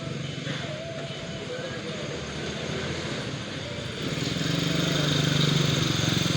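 A Yamaha Mio Soul i125 scooter engine drones steadily on a test drive after a tune-up, its hum rising in loudness toward the end.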